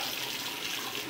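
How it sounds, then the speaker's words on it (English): Water running from a bathroom sink tap as a cloth is rinsed beneath it, a steady, soft broadband splash and hiss at close range, continuous and alone with no talking. "I'm just going to rinse my cloth"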